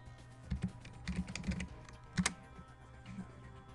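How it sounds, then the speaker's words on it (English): A few quiet, close keystrokes on a computer keyboard as a search word is typed, scattered soft clicks over about three seconds. "type in your keyword search"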